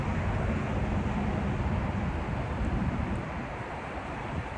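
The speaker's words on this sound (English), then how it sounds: "Big gust of wind." A strong gust of wind sweeps across an open highway rest area, a steady broadband roar buffeting the microphone for several seconds and easing slightly toward the end, with no talking.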